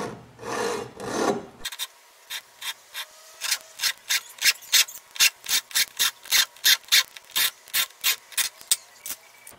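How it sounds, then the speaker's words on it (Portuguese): A handsaw works through a rubber door seal on a Duster car during a door seal replacement: a brief rough rasp, then a rapid series of about twenty short, crisp stroking rasps in a quick steady rhythm, close and fairly quiet. "vou fazer o processo da serragem e do encaixe"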